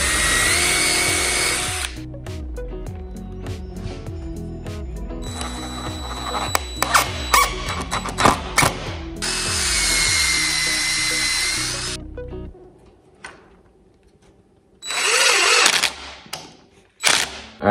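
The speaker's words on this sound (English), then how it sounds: "So I'm gonna drill some pilot holes and start screwing this together." A power drill whirs in several bursts, spinning up and down while drilling pilot holes, with clicks and clatter of screws being driven between runs.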